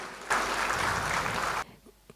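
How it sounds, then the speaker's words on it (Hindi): Audience applause for competition participants at an award event, a dense burst of clapping that starts abruptly, holds steady for over a second, then cuts off, leaving a few faint claps. "एक बार ज़ोरदार तालियां हो जाएं हमारे सारे पार्टिसिपेंट्स के लिए"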